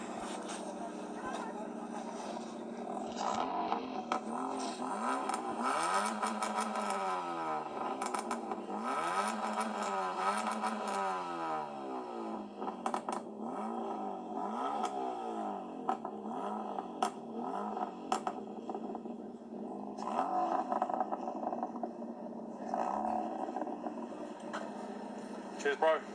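At a London car meet, a car engine revs repeatedly in rising and falling bursts, heard at a moderate distance beneath ongoing chatter from people nearby.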